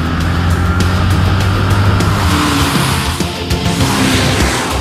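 A BMW Alpina B6 Biturbo accelerates hard, its engine a steady, loud roar that holds throughout, with no voices.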